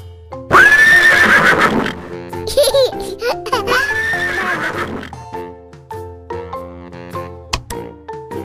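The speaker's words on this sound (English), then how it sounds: "Horse." An animated horse gives a loud, clear neigh, followed by snorts and a few clip-clop hoofbeats with cartoon sound effects, all close and alone without talk.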